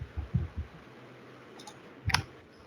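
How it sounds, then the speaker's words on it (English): Light computer keyboard typing while entering a URL in a WordPress admin: a quick cluster of soft taps at the start, a lull, then one sharper burst of keystrokes, all close and fairly quiet. "Let me type here some."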